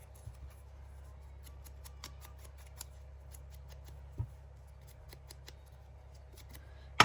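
Scissors snip through paper for a junk journal cluster craft project, giving a few sparse, quiet, crisp cuts spread out in an otherwise still room with a low steady hum beneath.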